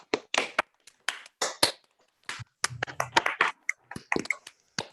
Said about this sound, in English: If people want to unmute their mics and clap.